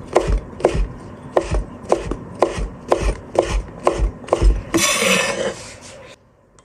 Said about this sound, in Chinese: 再把香菇改刀，切成小丁